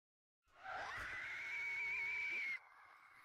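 Shrill, drawn-out scream from an enemy in a survival horror video game, rising abruptly and holding loud and sustained for about two seconds before cutting off into a quieter tail.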